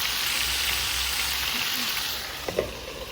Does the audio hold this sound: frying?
yes